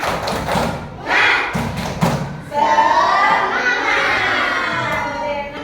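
A second-grade primary-school class performs the 'tepuk semangat' ice-breaker, with a quick burst of loud rhythmic group clapping followed by children shouting together in a lively, crowded classroom.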